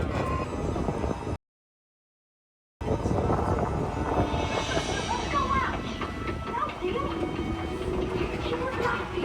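A Universal Studios Hollywood tour tram rolls along at about 8 miles an hour, a steady broadband rumble of wheels and motor running throughout, broken by one brief gap, with people talking over it.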